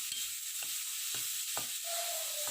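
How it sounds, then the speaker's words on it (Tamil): Ground coconut is stirred into a mustard seed tempering in a kadai for cabbage dal kootu, with a low sizzle and several distinct spoon scrapes against the pan. "அதை போட்டு நல்லா கிண்டி விட்டுக்கலாம்"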